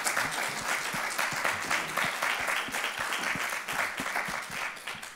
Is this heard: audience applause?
yes